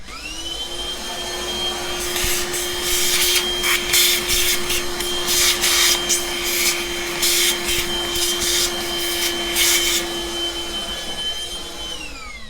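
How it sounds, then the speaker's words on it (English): A vacuum cleaner runs steadily for about twelve seconds while cleaning out a Turin DF64E coffee grinder, during burr installation and alignment. A constant motor whine holds throughout, with rough bursts of suction and rattling in the middle as the nozzle works the grinder. "I actually have a vacuum right here"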